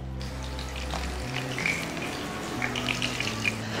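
Sausages fry in hot oil, giving a steady close sizzle and crackle with scattered pops, opening over a brief low hum from the kitchen.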